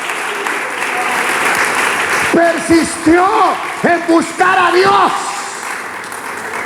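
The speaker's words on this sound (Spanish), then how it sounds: "Dele palmas al Dios del cielo" A church congregation claps steadily through a sermon: dense, continuous applause that starts alone, then carries on beneath a male preacher's voice speaking over it.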